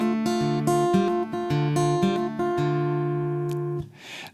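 Acoustic guitar fingerpicking rolls through a steady, repeating pattern of plucked notes at a moderate tempo, ringing clearly before the final notes fade out.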